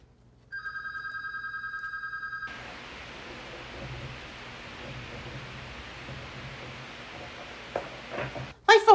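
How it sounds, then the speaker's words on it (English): A telephone rings indoors, a clear electronic two-tone ring for about two seconds, then quiet room noise with soft rustling and a brief clatter at the end. "oh, who the heck is that? It's phone."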